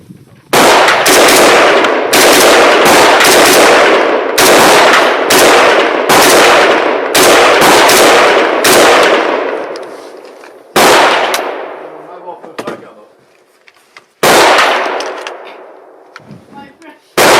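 Close, very loud gunshots from a TR-3 rifle, the civilian version of the AK-12, fired outdoors: a rapid string of sharp cracks with brief gaps, then a few separated single shots, no talking.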